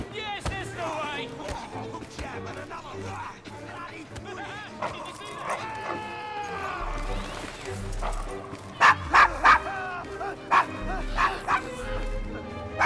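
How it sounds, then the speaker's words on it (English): A dog in the video game Assassin's Creed Syndicate, set in London's Devil's Acre, lets out several short, sharp barks and yips in quick bursts near the end, preceded by game character dialogue and background ambience. "Is your dog quite all right?"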